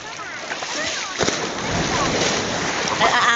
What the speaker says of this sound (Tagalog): Sobrang lakas na po yung alon.